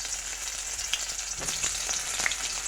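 Cauliflower florets fry in hot oil, a steady close sizzle with scattered crackles and pops, no voices.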